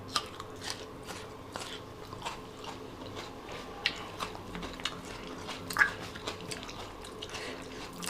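Someone eating biryani in a bathroom, with soft, irregular chewing and biting sounds and small wet clicks, close and quiet, with no talk.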